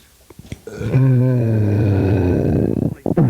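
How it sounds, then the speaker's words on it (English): One long, loud, deep burp rumbles for about two seconds, preceded by a few small clicks and followed by short breathy sounds. "what if we all get a belch and then we do the belch?"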